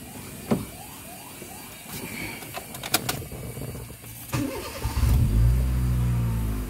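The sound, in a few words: Honda Jazz GD3 engine starting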